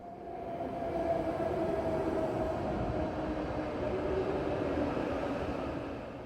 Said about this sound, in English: And here's my train pulling in now.